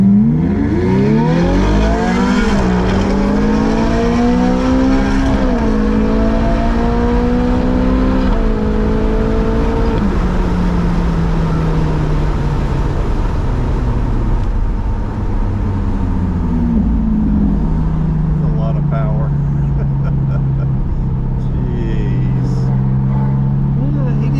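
A Lamborghini sports car's engine revs and pulls through gears while driving, loud and close, with rising and falling engine pitch sweeps and people talking over it.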